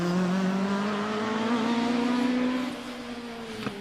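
A 2-litre Ford Escort RS 1600 race car pulls away from the start line of the Prescott speed hill climb. Its engine climbs steadily in pitch and then eases off slightly, loud and close, with no voices.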